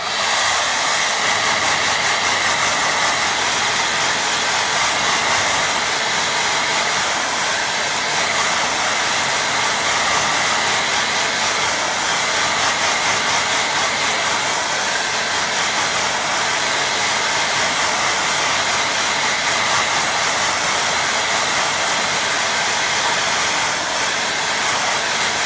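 A hair dryer blows steadily on a watercolour painting, a continuous loud airy hiss and motor whir that holds even for the whole stretch with no talk.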